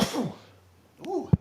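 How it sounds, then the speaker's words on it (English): A single close, sharp sneeze bursts out after a brief breathy lead-in, heard loudly in a quiet room between stretches of talk on a Huntsville morning show. "I had a sneeze there."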